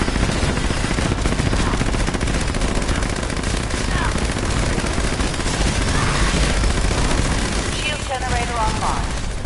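Gauss rifle fire and other weapons in Fallout 76 crackle in a dense, continuous barrage, loud and close throughout, with game voices faintly mixed in.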